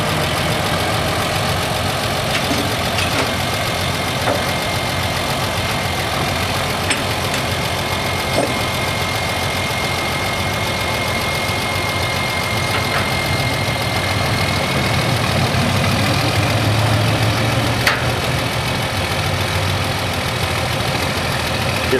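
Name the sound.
tractor engine idling while backing onto trailer ramps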